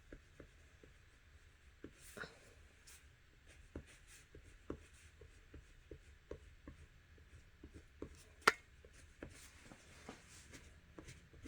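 Yellow oil pastel drawn across watercolor paper, producing soft, intermittent scratchy strokes and faint rubbing up close, quiet throughout with scattered small taps and no talk.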